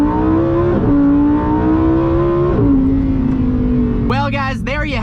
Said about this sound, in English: one last acceleration pull for you